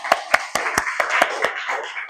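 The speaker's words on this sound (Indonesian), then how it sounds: "Tepuk tangan." Classroom clapping during a teaching session, a handful of sharp, evenly spaced claps close by, about eight in two seconds, with no voices.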